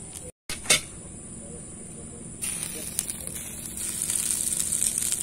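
Hot oil sizzles in a pan for frying salted eggs. A few brief knocks come first, then a steady hiss starts abruptly partway through and grows louder toward the end.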